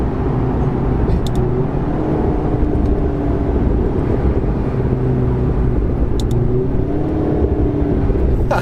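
A blue McLaren 650S Spider on the move gives a steady, loud engine and road drone that holds evenly throughout, with no voices.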